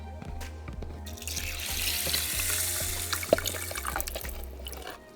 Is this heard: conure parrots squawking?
no